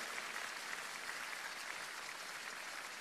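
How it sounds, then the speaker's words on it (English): Sustained applause from a large church congregation, a dense steady patter of many hands clapping without a break. "Keep clapping for her until you hear her voice."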